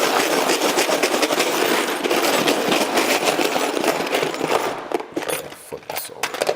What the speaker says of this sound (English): Rusty razor blades, some bolts, screws. Let's pop it in there and give it a shake.